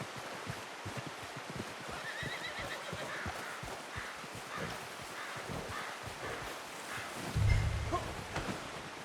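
A horse whinnies in the video game Red Dead Redemption 2 amid a steady outdoor wash of wind and rustling, with a few hoof clops and a low thump near the end.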